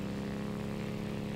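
A helicopter flies in the cartoonish physics game Wobbly Life, giving a continuous, steady buzzing rotor-and-engine drone with a pulsing hum throughout, close and unbroken.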